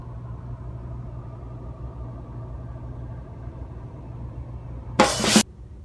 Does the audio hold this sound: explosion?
no